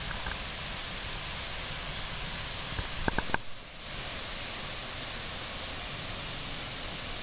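Roaring Brook, a stream in Rhode Island's Arcadia Management Area, gives a steady, soft wash of rushing water. A few brief clicks and a short dip break it midway, and no one speaks.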